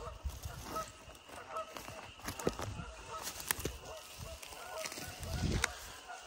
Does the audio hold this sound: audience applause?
no